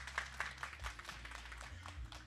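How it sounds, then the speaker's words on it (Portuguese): Applause for a writer at an academy of letters anniversary ceremony, a modest crowd clapping in quick irregular patters, fairly quiet, over a low hum. "eu peço os aplausos de vocês"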